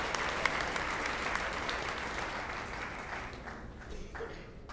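An audience at an awards show for high school athletes applauds steadily for several seconds, dense clapping that tapers off near the end.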